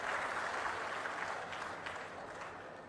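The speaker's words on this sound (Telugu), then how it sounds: "గట్టిగా చప్పట్లు కూడా అభినందించండి." An audience at an official review meeting breaks into a burst of clapping, a dense steady patter that fades slightly over a few seconds.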